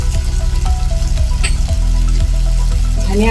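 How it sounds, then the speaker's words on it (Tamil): Prawns with masala sauté in a hot pan, giving a steady, loud sizzle with scraping and stirring knocks from a utensil running throughout. "இப்போ நல்லா ப்ரான் சேர்த்து வதக்கியாச்சு"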